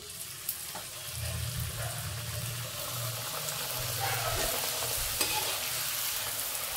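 Luchi, a puffed flour bread, deep-fries in hot oil with a continuous bubbling sizzle and occasional stirring scrapes, heard close up with a low hum underneath and no voices.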